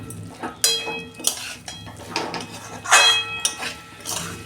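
Soybeans being added to a cooking pan, with a series of sharp metallic clinks and scrapes of a utensil against the pan at irregular intervals and a light sizzle underneath, with no talking.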